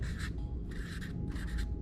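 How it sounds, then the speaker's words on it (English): A marker scratches the word "base" onto a motorcycle intake plenum part in a few quick, faint strokes with short pauses between them. "just write base on there"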